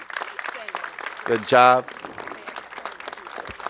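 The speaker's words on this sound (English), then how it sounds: "let's give Gene and Sandra a big round of applause here, please." An audience at a Louisville Zoo donation event claps in a scattered, moderate round of applause, with a voice briefly speaking over it.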